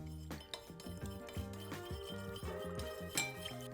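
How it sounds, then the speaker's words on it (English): Basil cleansing balm ingredients being stirred together in a container, giving repeated light clinks and scrapes of a utensil against the sides, fairly steady and close, with no voices. "I'm going to go ahead and add that in and mix until homogeneous."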